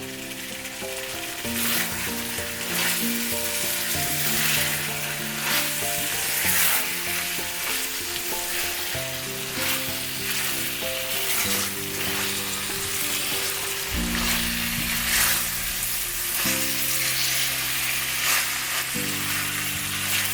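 Spicy Korean pork with green onion sizzles loudly and continuously in a hot pan, a steady stir-fry crackle with a low droning hum running underneath throughout.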